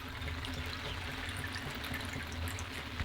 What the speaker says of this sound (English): let's throw this water and let's fill it up with the clear water